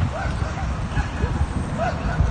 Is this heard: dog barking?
yes